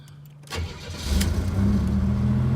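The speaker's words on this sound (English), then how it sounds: "So we can see it fires right up the second that you turn the key there." A 1987 Buick Grand National engine cranks briefly, then catches and settles into a loud, steady idle close by.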